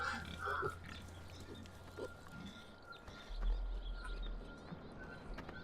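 Pigs in a run-down, old farm building, with scattered grunts and low snorts amid steady background noise and a deeper rumble later on.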